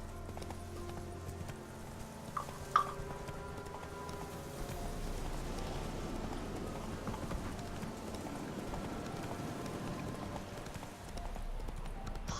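Horse hooves clip-clopping on the ground in The Witcher 3 video game, a quiet, steady rhythm of hoofbeats over low ambient game sound, with a brief sharper clack early on.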